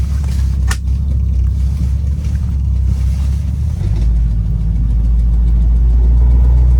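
A 1947 Ford Custom four-door sedan pulls away on the road in low gear, its engine a steady, close, loud low rumble that deepens and settles as the car gets moving.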